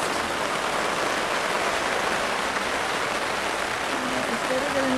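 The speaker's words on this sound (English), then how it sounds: "Raining on the roof." Rain drums steadily on a roof at the Beautiful Days Festival in Devon in August, a dense, even hiss that continues unbroken throughout, with faint voices beneath.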